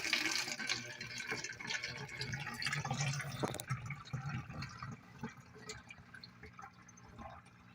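Homemade insect and animal repellent pours into a spray bottle up close, a steady splashing, gurgling stream that settles into a softer trickle toward the end.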